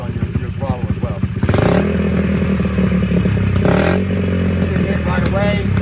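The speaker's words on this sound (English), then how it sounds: "you want to make sure you got good response on your throttle as well" A Honda four-stroke dirt bike engine after a carburetor adjustment, idling with a rattly putter before two loud, sharp throttle blips that rev up and fall back, with a voice heard over the idle.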